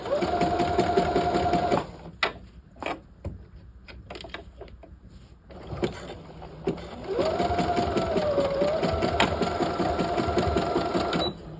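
A sewing machine stitches a double welt pocket on a half-scale jacket in loud, steady whirring runs, pausing in the middle for a few clicks and taps before resuming a long continuous stitch.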